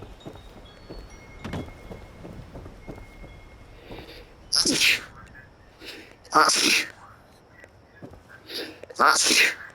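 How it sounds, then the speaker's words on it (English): Three heavy sneezes in the game Fallout 76, sharp loud bursts spaced a couple of seconds apart after a stretch of quieter ambient noise and light tapping. "that was heavy sneezing"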